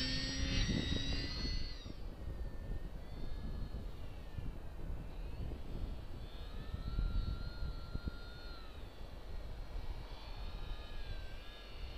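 A Parkzone VisionAire RC plane flies on a windy day after a hand launch, its small electric motor whining in a steady, wavering tone that swells and fades as it passes at moderate distance over wind rumble.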